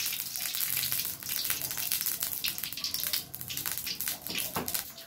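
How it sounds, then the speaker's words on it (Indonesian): Chicken seasoned with turmeric, shallots, garlic and ginger frying in oil in a home kitchen, a steady dense sizzle and crackle that runs throughout without pause. "Mau ngegoreng apa itu ayamnya dulu."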